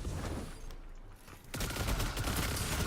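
Rapid submachine-gun fire in the Destiny 2 video game rattles in dense, continuous bursts, dipping briefly midway before resuming loud and sustained.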